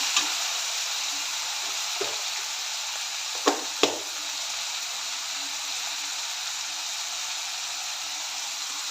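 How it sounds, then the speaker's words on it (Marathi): A pan of frying bottle gourd curry with soaked chana dal sizzles steadily while salt is stirred in, a constant hiss broken by a few sharp clicks of the spoon against the pan. "मीठ घालून मिक्स करून घेऊया सर्व व्यवस्थित"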